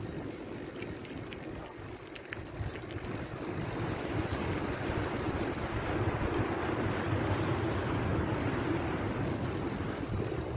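Wind and moving water at the mouth of the Bidasoa river, a steady broadband rush with gusty wind buffeting the microphone, growing slightly stronger partway through and continuing without pause.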